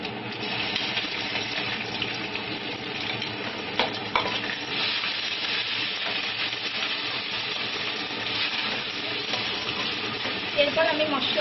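Ground spice paste, added to browned onions, fries in oil in a home kitchen: a loud, constant sizzle with busy stirring, scraping of the pan and occasional sharp clinks.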